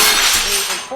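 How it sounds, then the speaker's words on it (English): A glass lamp knocked over by a cat crashes and shatters, a loud, dense burst of breaking glass with scattered tinkling that fades slightly over about a second, close by and with no talking. "Just knocked a lamp over and glass is everywhere."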